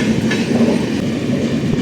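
The Vivek Express, bound from Kanyakumari to Dibrugarh, passes close to another train near Coimbatore with a loud, continuous roar of rolling wheels and a faint rhythmic clatter. No one speaks.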